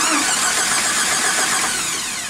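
A Jeep engine is turned over with a clip-on remote start switch, giving a loud, close, continuous cranking whir that runs for about two seconds.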